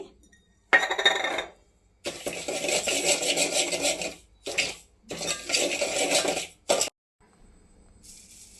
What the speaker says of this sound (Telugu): గోధుమ రవ్వ వేసుకొని దోరగా వేయించుకుందామండి